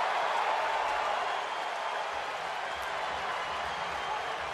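Baseball stadium crowd on its feet applauding and cheering for pitcher Hudson, a dense steady roar of clapping and voices held at even loudness throughout.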